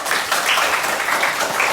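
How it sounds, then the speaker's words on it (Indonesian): A classroom audience claps together in a steady, dense burst of applause, loud and close, lasting the whole moment with no clear voice over it. "Jadi tepuk tangan dulu buat kita."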